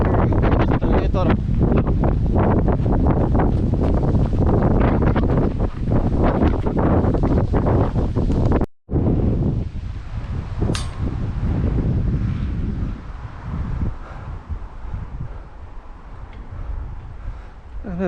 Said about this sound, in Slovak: Ten vietor.